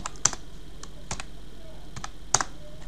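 Keys tapped on a computer keyboard while editing a Word document, a few scattered sharp clicks and short bursts, close and fairly quiet with no talking.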